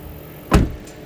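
A 2022 Toyota Tundra Platinum Hybrid pickup door shuts with a single close, loud thud, followed by a brief faint whir as the automatic running steps retract.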